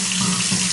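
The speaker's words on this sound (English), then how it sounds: "There is the hot water. You can see it's draining real well. There we go for a spray." Hot water sprays from a faucet into a sink in an apartment, a close, steady splashing rush across the whole short moment.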